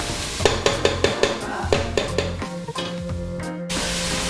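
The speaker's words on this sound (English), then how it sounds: "the onion and the carrots are sauteing really" Onion and carrots sauteing in a pan for a buckwheat lentil slice, a steady close sizzle with a run of quick stirring scrapes and utensil knocks against the pan, continuous throughout.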